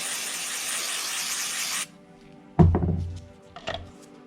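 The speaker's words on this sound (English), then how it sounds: "you can put some WD-40 on your rag as well" An aerosol can of WD-40 sprays a steady, close hiss onto a rag for nearly two seconds, then cuts off, followed by a couple of dull thunks and rubbing handling noises.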